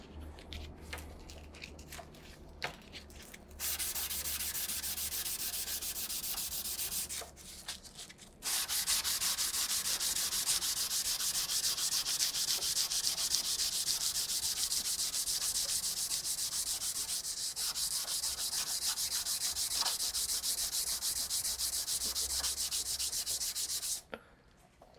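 Sandpaper rubbed by hand along the blade of a chef's knife, making long continuous scratchy strokes, close and crisp, broken by a few short pauses, with no talking.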